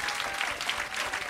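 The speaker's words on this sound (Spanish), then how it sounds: "Fuerte el aplauso para..." Applause from an audience at a comedy show's mock lecture, a short burst of dense steady clapping heard at close range.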